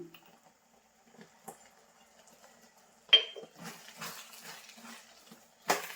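A ladle scraping and clinking around a pot of thickening jaggery rice, in scattered faint strokes that turn into louder scrapes near the end, with quiet gaps between them.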